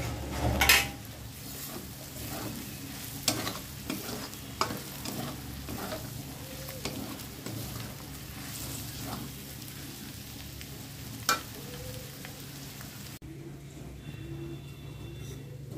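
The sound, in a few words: paneer being fried and stirred in a pan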